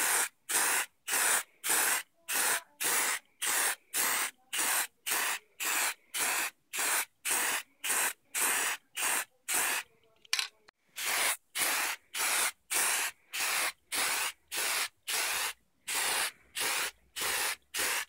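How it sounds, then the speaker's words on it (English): Spray can laying primer and flat paint onto a Rubies First Order Stormtrooper mask, about thirty short even hissing bursts in a steady rhythm, close and loud, with a brief pause near the middle. "First, I'm going to apply some flat paint and primer."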